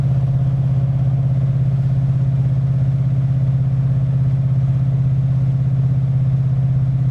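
A Ford car engine runs steadily at about 2,000 RPM, a loud, continuous low hum with a strong even drone and no speech.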